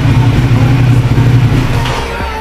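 A 1200cc Ducati Diavel motorcycle with an aftermarket exhaust idles loudly with a deep, steady exhaust burble, close by, with no talking.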